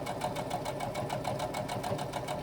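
A sewing machine stitches a seam on a laptop bag, running nonstop with a fast, even mechanical chatter of needle strokes, close and steady.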